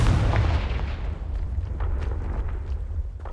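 The Confringo explosive spell goes off in Hogwarts Legacy, a heavy booming blast with a deep rumbling tail that lingers and crackles faintly afterward.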